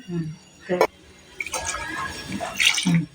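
Water is poured from a cup into rice and dal for khichdi, a splashing, trickling flow in the second half that alternates with short spoken remarks nearby.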